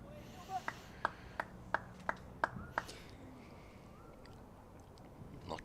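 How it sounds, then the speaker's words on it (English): At a Leicestershire v Worcestershire County Championship cricket match, a run of about eight evenly spaced hand claps rings out faintly, as if from a distance, over a low background murmur. "Lots of hand clapping."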